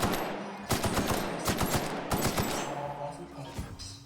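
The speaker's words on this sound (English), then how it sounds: "Why are you shooting at it?" Rapid bursts of gunfire from a shooter-style role-playing game, The Outer Worlds, crack out in quick clusters, loud and close, with a steady ambient bed beneath.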